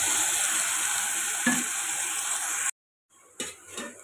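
Prawns fry in a pan with a steady, fairly loud sizzle and a soft knock of a spatula, then the sound cuts out briefly and returns quieter with a few light stirring scrapes.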